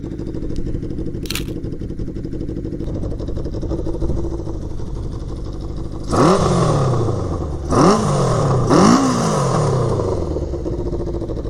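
A Honda CB750 cafe racer motorcycle idles with a steady close rumble, then revs sharply three times in quick bursts before settling back to idle.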